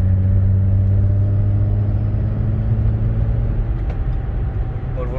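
A VW Golf 4 VR6, just back from a gearbox change, drives along with a steady, loud engine drone and low rumble from inside the cabin, easing slightly near the end.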